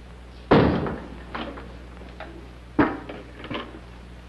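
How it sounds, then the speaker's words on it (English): A door is shut in an interior scene from a 1940 film, giving one sharp, loud thud followed by a second, softer closing bang a couple of seconds later, with faint rustling between. "Close that door."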